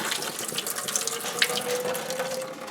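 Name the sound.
tap water running into a cooking pot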